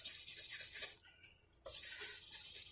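Guitar frets are polished with a fret crowning and polishing tool, making a soft scratchy rubbing in quick back-and-forth strokes up close, broken by a brief pause before the rubbing resumes.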